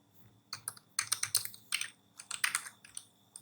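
Quick bursts of typing on a computer keyboard, close and crisp, with short clusters of keystrokes separated by pauses and a final sharp press at the end, heard alone without speech.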